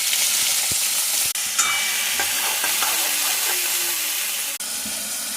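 Potatoes hit hot oil seasoned with five-spice seeds in a pan, giving a loud, continuous sizzle and hiss with a few stirring scrapes and knocks, close up and without talk.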